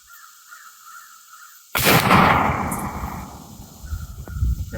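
A traditional muzzle-loading rifle fires a single loud shot from a clean barrel outdoors, a sharp sudden blast followed by a long rolling echo that slowly fades while faint birdsong carries on.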